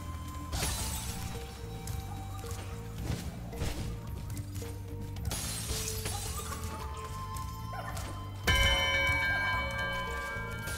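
Frozen trolls shattering as Spyro charges into them in Spyro 2: Ripto's Rage from the Reignited Trilogy, with repeated icy smash and crash bursts over steady game music and ambience.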